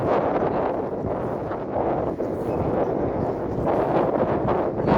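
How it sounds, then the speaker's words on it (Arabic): A steady, loud roar of wind buffets the microphone throughout at an outdoor football match, with no speech. "كاين شوية ديال الريح راه كنضل كتسمع فيا"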